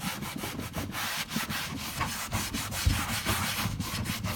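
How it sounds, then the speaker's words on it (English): Cloth rubbed firmly back and forth over a waxed stencil piece, a steady close scrubbing friction with rhythmic strokes, loud and continuous with no talking. "So I'm taking a cloth now, and I'm rubbing it in."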